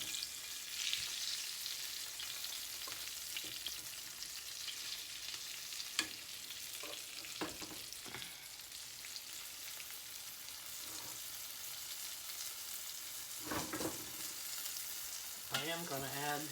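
Deer steaks frying in a pan: a steady, close sizzle with intermittent clinks and scrapes as the meat is moved and turned.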